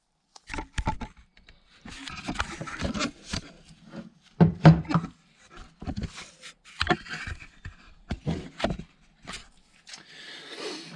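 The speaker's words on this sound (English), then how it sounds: "so now giving this shaft a bit of a tap, you can see it's just poking through the other side of this gear" Sharp metal taps as a shaft is driven through a gear during a Classic Mini differential rebuild, several irregular knocks close by with short pauses between them.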